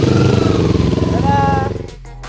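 A big motorcycle (moge) is ridden, its engine droning loud and close with a rising whine, then the revs drop away and fade toward the end.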